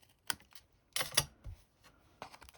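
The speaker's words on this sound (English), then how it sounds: "we're just going to cut those off" Scissors snip through card stock while a gift card box is trimmed, a few sharp, close clicks and cuts spaced irregularly, with a quick double snip in the middle, in a quiet room.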